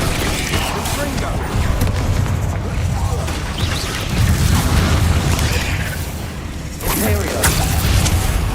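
A Confringo explosion spell from Hogwarts Legacy bursts with booming blasts and crackling debris over a continuous loud game-combat background, several heavy surges following each other with no spoken words.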